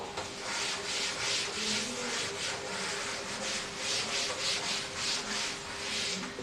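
A board eraser rubs steadily back and forth across a classroom writing board during a chemistry lesson, a continuous close scrubbing with soft rhythmic swells and no talking.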